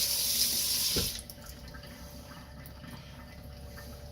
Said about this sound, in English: You can hear my sink running in the water.